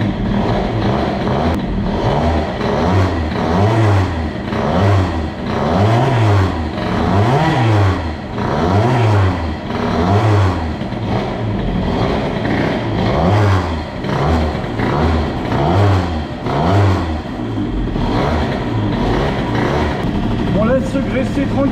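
A scooter engine fitted with a Malossi G1R 175 kit and BOOST cylinder head revs repeatedly just after starting, loud rhythmic blips rising and falling close by, with a voice talking over it.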